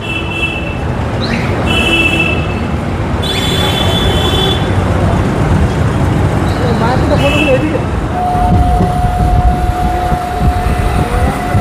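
Passenger train on the Krishnanagar–Amghata route, heard from the last coach as it runs beneath the National Highway 12 overpass: a steady loud rumble of wheels and carriage noise throughout, with a long whistle-like tone near the end and voices over it.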